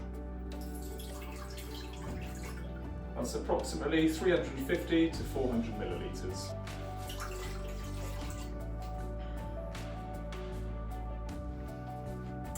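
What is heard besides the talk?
water being poured into a Crockpot Express pressure cooker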